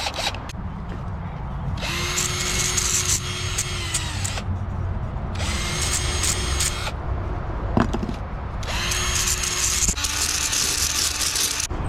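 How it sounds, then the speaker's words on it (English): Dremel rotary tool whining in three separate high-pitched bursts of a few seconds each, near and loud, with quieter pauses between them. "Dremel."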